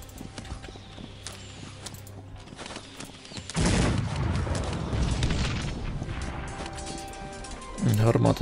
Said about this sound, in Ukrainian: Гармати так собі стріляють.